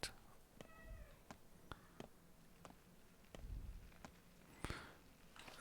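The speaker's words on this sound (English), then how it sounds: "I keep hearing a cat." A cat meows a few times in a quiet room, faint and brief calls scattered among soft ticks, taps and footstep-like knocks.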